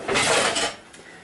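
A utensil stirs food around in a pot of simmering water, producing a brief, close burst of scraping and sloshing that fades after about a second, with no talking.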